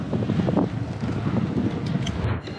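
A strong headwind buffets a microphone while cycling on a road, low rumbling gusts blowing loud and continuous with no talk.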